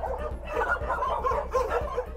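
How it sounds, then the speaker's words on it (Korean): A large pack of about a hundred dogs at a foul-smelling dog farm bark and yelp loudly and continuously, a dense overlapping chorus of barks with rapid repeated yips. "지금 거의 뭐 100마리가 좋게 넘어 보이는 그런 개들이 심하게 짖고 있습니다."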